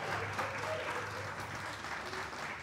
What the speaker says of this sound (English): How about a round of applause for Sierra?